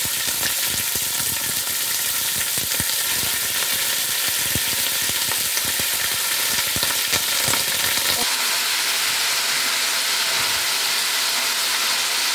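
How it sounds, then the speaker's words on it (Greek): Pork shoulder sears in hot oil in a pan, giving a loud, continuous sizzle and crackle with scattered pops, easing slightly toward the end, no voices. "Περιμένουμε λίγο να σιγαριστεί καλά το κρέας από όλες τις μεριές του."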